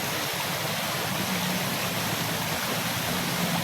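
A river stream flows steadily at dusk, producing a constant broadband rush and gurgle of moving water, fairly close and unbroken, with no voices over it.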